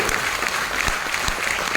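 A seminar audience claps steadily throughout, a dense, even patter of many hands with a few louder individual claps punctuating it.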